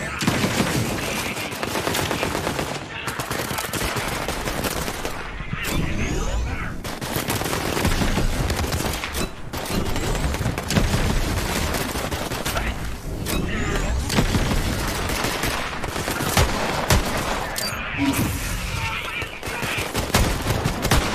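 Rapid gunfire from an early-game gun in Borderlands 3: loud sustained bursts of automatic fire with booming impacts, broken by several short pauses across the stretch, with game sounds and occasional talk mixed underneath.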